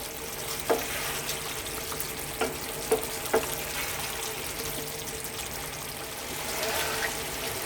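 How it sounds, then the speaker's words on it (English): Green peas and potato curry frying on high heat in a pan, a steady soft sizzle with a few brief clinks of stirring, close and moderately loud, with no talking. "get some heat through those peas and a bit of flavour on them"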